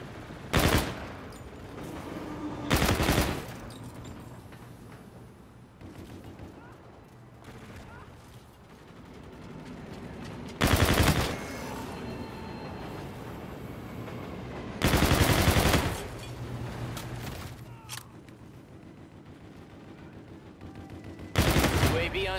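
Heavy automatic gunfire erupts in a Call of Duty: Infinite Warfare multiplayer match while players shoot at an enemy Vulture, with loud sustained bursts recurring every few seconds over a busy rumbling battle background.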